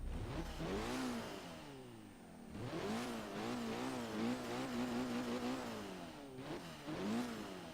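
A Mitsubishi four-cylinder car from Forza Horizon 3, set up as a drift build, revs repeatedly. The engine climbs and falls in several distinct sweeps, separated by brief dips, clear and alone with no talking.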